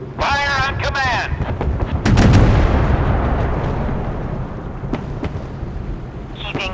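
Naval guns firing in the Force of Warships video game: a loud broadband blast near the two-second mark rolls into a long booming decay, preceded by short radio-style voice chatter and with sharp crack-like hits later.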